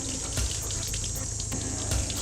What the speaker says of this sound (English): just gonna rinse out the brush just a little bit